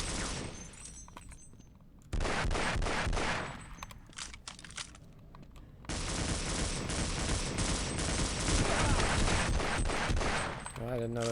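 Gunfire in the Half-Life video game: loud bursts of rapid automatic fire, a short burst early, then a long sustained stretch of shooting near the end, with crackly impacts between bursts.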